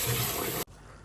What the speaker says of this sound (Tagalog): wash it again with cold water